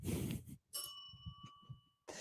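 A bright bell ding sound effect strikes once and rings out with a clear, sustained metallic tone that fades over about a second, set between brief bursts of other noise.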